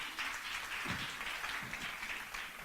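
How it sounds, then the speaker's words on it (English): Soft, steady audience applause for a volunteer at a convention rings out at a distance, a dense even patter of many hands with faint voices mixed in. "Please give Haley another round of applause."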